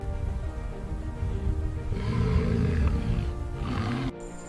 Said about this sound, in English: Both lions vocalize together, a behavior observed during social bonding and communication.